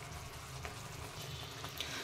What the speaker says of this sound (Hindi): अब ये जो पानी है जब तक हल्का सूख ना जाए तब तक इसे ऐसे ही उबलने देंगे।